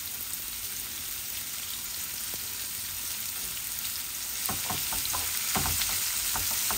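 Onions tossed in oil with half-cooked garlic sizzle and crackle steadily close by, growing a little louder midway with bursts of spattering and stirring.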